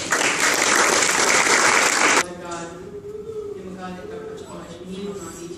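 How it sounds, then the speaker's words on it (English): An audience at a Choctaw community meeting bursts into loud, dense applause for about two seconds, then it stops abruptly and a voice speaks. "give her a big round of applause"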